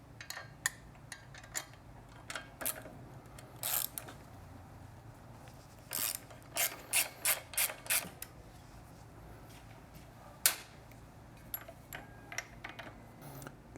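A 12mm wrench turning a shock hardware bolt on a Triumph motorcycle, heard as a series of close, sharp ratcheting clicks and creaks in short irregular runs over a quiet background.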